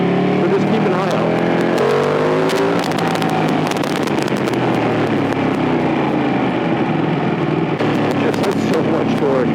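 A Ducati 959 Panigale motorcycle engine roars loud and close while being ridden through town, a continuous throaty drone that rises and falls with the throttle.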